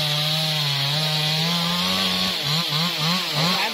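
A saw cuts through a large melaleuca tree, droning steadily and loudly, with its pitch dipping repeatedly toward the end as the blade bites into the wood; no voices are heard.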